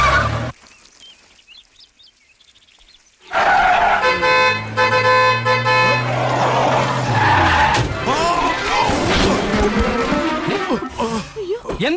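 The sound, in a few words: car horn honking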